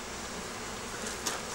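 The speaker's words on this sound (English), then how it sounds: "It'll clear a few of the bees out." Close, dense buzzing of many honey bees around a hive, a constant droning hum with one brief louder pass near the end.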